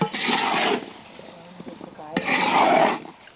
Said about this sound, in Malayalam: ഇളക്കി യോജിപ്പിക്കട്ടെ